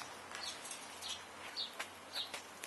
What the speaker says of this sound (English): You're a crazy bird.